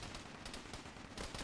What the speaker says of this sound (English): Got an RPK or something.